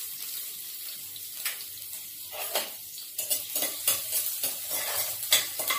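Finely chopped garlic stirred and sizzling in about two spoons of olive oil in a pan, with soft frying crackle and repeated scraping stirs that grow busier toward the end.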